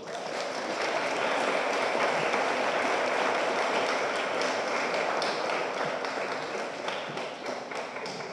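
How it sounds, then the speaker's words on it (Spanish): Steady applause from a seated audience at an academic talk, a dense even wash of clapping that holds throughout at moderate level without speech. "Les pido un fuerte aplauso para la maestra Anayael"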